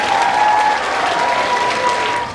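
Loud audience applause and cheering at a youth charity's year-in-review event, sustained clapping with crowd noise and whistles that fades slightly at the end.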